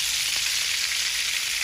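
River fish frying in a pan, giving a close, loud, steady hiss of sizzling oil that runs unbroken throughout.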